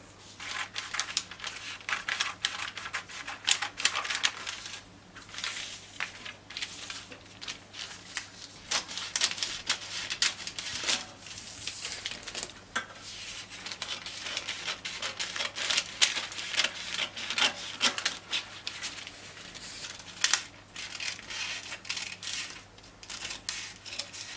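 Scissors cut through paper for a princess-dart bustier blouse pattern: a steady, faint stream of crisp snips and rustling paper, close up, continuing throughout with no talk.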